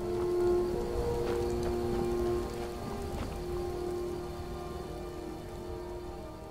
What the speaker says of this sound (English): enjoying the peaceful, relaxing rain